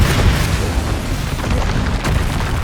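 A spell explosion from the Hogwarts Legacy video game rumbles as a dense, booming low blast that roars continuously for a couple of seconds with a slight flare near the end.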